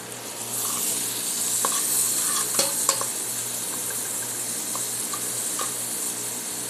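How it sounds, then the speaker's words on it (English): Onions caramelizing in a pan give a steady close sizzle and hiss, with a few brief clicks and scrapes from stirring. "let's take a look at our onions that should be caramelizing."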